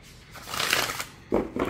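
Oracle card deck of matte cardstock shuffled by hand, a soft riffling burst followed by a couple of brief, sharper card flicks, close and quiet.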